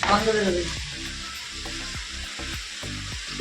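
Food frying in a pan, a continuous sizzle with faint rhythmic tapping and stirring, close and moderately loud.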